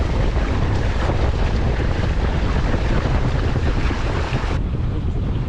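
A 6 to 8 knot breeze buffets the open water aboard a Com-Pac 16 mini keelboat under sail. Steady rushing wind noise and the wash of water run throughout, with no talk.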